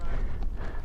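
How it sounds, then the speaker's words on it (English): Horse hooves clip-clop briefly on the ground, a quick, muffled patter over low background rumble. "There's people on horseback here."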